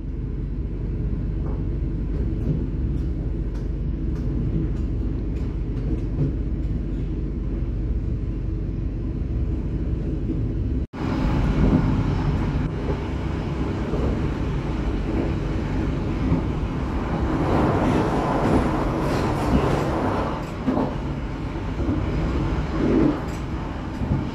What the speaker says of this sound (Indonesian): kereta api Joglo Semarkerto diberangkatkan kembali dari stasiun Perupuk